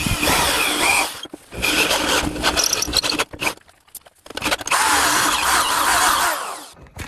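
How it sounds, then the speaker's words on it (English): A loud, grinding power drill bites steadily through metal engine parts in long bursts, with a brief pause midway before it starts up again. "So I'm just going to go ahead and drill out."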